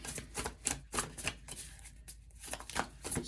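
Tarot cards are shuffled in a quick run of soft, papery riffles and taps, faint and close.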